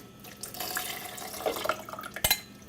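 A cinnamon, salt and vanilla mixture is poured into a blender for persimmon and cream oatmeal, a steady soft liquid pour with a faint splash and a brief clatter near the end.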